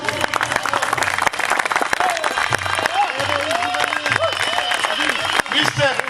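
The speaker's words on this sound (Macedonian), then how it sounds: "Ве молам еден аплауз." An audience applauds for the FCI president at a dog show gathering, with dense steady clapping throughout, heard under a voice speaking over a microphone.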